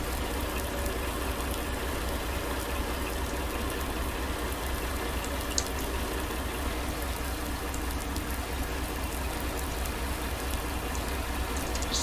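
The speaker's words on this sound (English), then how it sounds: "so you can see the tractor in action." A farm tractor engine runs steadily while barley is being loaded on a snowy farm, a continuous low rumble holding at an even level throughout with no voices.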